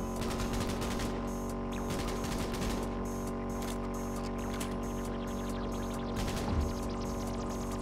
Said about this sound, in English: We'll just shoot him then